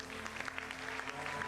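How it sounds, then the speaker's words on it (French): A congregation at a prayer-marathon meeting applauding in a short burst of quick, overlapping claps, fairly quiet, with a faint steady hum underneath. "Est-ce que nous pouvons donner une bonne acclamation"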